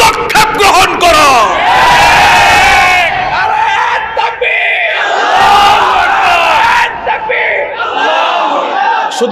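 A large, close and loud crowd of men at a gathering of Islamic scholars chants slogans in unison, with a lead voice calling and the crowd answering in repeated rhythmic bursts.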